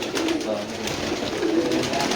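Breeder pigeons cooing on a rooftop, a steady run of soft, low coos repeating close by over faint outdoor background, with no talking.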